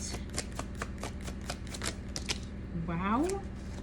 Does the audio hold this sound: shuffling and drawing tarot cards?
yes